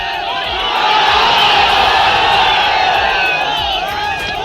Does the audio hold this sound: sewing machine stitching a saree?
no